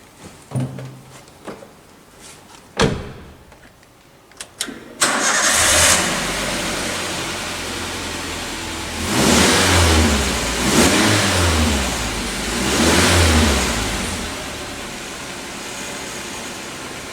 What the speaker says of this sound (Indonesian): kita nyalakan mesin mobil